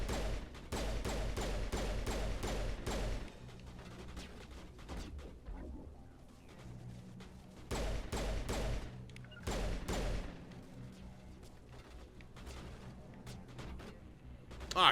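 Gunfire from the video game Mass Effect: repeated bursts of loud, dense shots in rapid clusters, with quieter gaps and low rumbling between volleys.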